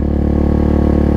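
A Suzuki DRZ400 motorcycle engine holds steady at about 4,300 RPM, a loud, even, throbbing exhaust drone with no change in pitch over the short stretch.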